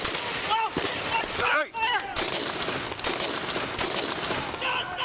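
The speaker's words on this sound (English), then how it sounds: "Shots fired! Shots fired!" Several sharp gunshots from a police officer and a county deputy returning fire ring out in bursts through a tense scene, mixed with urgent shouting voices throughout.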